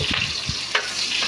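Onions sautéing in a pan for pork pochero, a steady close sizzle with a few soft stirring scrapes and taps over about a second, with no voices.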